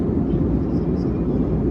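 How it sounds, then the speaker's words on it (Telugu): On a passenger flight from Hyderabad to Goa cruising above the clouds, a steady, loud low jet drone fills the cabin with little variation over the moment. "లేయర్ మేఘాల పైన ఇప్పుడు ఫ్లైట్ పోతుంది."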